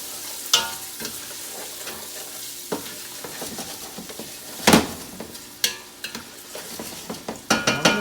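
Half a large onion and a good pinch of salt sizzle steadily in a hot pan, with a broad frying hiss broken by several sharp scrapes and stirring knocks of a utensil against the pan.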